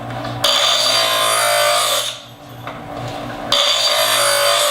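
A pocket knife blade drawn through a small kitchen knife sharpener, giving loud, steady grinding scrapes in three long passes with a brief pause between them, alone without talk.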